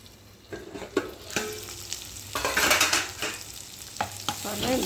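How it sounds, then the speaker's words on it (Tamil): Onions, tomato and curry leaves sauté in a pan for mushroom biryani, with a steady sizzle and a spatula scraping and knocking in bursts that grow busier midway. "வதக்குவோம் இது எல்லாமே நல்லா வதங்கும்"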